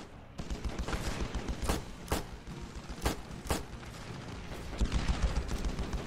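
Gunfire in the video game Ravenfield, a raised-bridge battle: a steady wash of battle noise with several sharp shots cracking out at irregular intervals, some closer and louder, continuing throughout with no talk.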